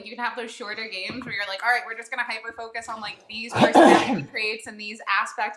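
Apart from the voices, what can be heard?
sneeze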